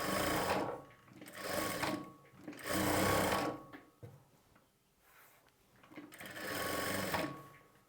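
A sewing machine stitches lining onto main fabric with a one-inch margin in three long, steady runs with short pauses between them, close and clear with no talking.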